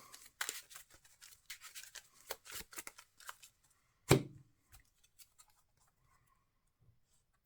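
A deck of Marvel Champions cards is shuffled on a tabletop, a run of quick riffling and snapping bursts followed by one sharp thump as the deck is squared, then a few soft taps, close and quiet.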